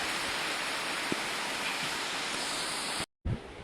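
Heavy rain falls outside in a steady, dense hiss, with a small tap partway through and a brief total dropout near the end before the rain resumes.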